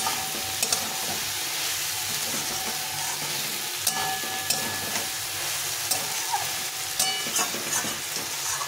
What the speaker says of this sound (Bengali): এখন এটাকে ভালো করে কষিয়ে নিতে হবে